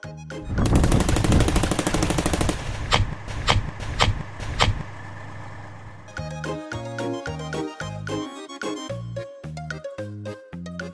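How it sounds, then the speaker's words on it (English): A soldier fires an expired grenade launcher projectile; a dense burst of loud cracking gunfire gives way to several sharp separate bangs, then a series of rhythmic mechanical knocks follows, with no talk. "The soldier tried to fire an expired projectile."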